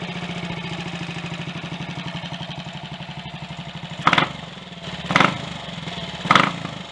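A Triumph Tiger Cub motorcycle engine, which has an oil-burning fault, idles close by with a steady, loping thump. It then rises in three sharp revving bursts about a second apart, with no talking.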